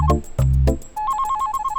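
A phone ringtone plays a repeating electronic beeping melody, close and clear, following a couple of loud low thumps at the start.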